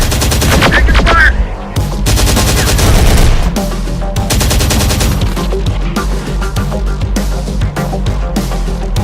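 Loud, sustained gunfire in the Terminator Dark Fate Defiance video game: continuous automatic bursts and heavy shots pound without pause through a chaotic battle, close and dominant, with faint voice chatter mixed beneath.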